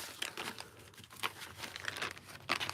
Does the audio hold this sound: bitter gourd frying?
no